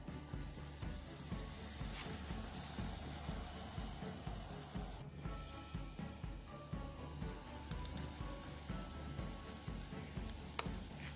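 Battered plantain slices frying in oil, a continuous soft sizzle with bubbling and scattered light pops, close but quiet, one brief clatter midway, no talking.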